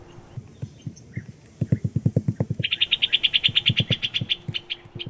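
A bird gives a rapid trill of high, sharp chirps lasting a second or two, over a steady rhythm of low knocking.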